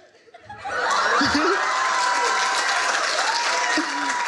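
An audience at a stand-up comedy show breaks into applause that swells after a brief quiet start and holds as dense, loud clapping, mixed with chuckles and laughter and a few voices.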